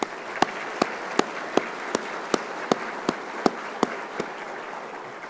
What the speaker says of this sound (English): Could we give those folks a round of applause?